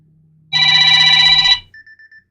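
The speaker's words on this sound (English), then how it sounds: "That's my alarm that goes off for 6:30 every night." A loud electronic phone alarm rings in one sustained burst for about a second, followed by a few short, quieter beeps.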